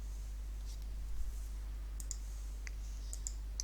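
A computer mouse gives quick, crisp double-clicks, faint and near, while someone models a staircase in SketchUp, with steady low hum underneath and no talk.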